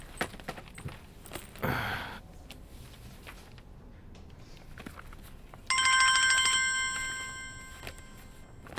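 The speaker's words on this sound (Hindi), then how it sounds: "फोन बज रहा है" Faint rustling and a scuffing noise, then a phone starts ringing with a steady electronic trill that continues for a few seconds and slowly fades.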